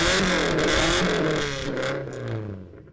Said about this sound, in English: 4 kids in an Audi 80 with a straight exhaust